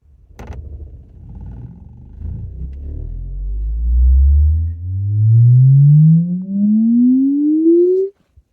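Loud rising test-tone sweep from a subwoofer in a Skoda Octavia climbs steadily from a deep rumble to a higher hum, with the parcel shelf rattling along before it cuts off.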